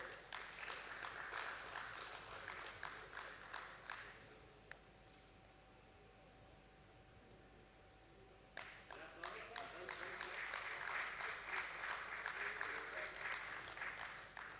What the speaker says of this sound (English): Please put your hands together for Mr. Rajesh Chaudhary,